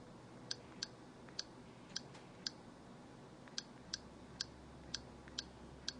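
Faint, sharp haptic clicks from an LG enV Touch phone as keys are pressed, about a dozen irregularly spaced ticks over a quiet hiss.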